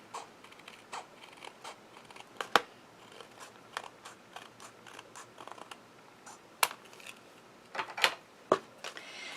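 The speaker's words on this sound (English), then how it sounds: "then I'm going to trim the top part off here" Scissors trim the top off a paper craft piece, with a series of soft scratchy snips and sharper clicks coming in irregular bursts close by against a quiet background.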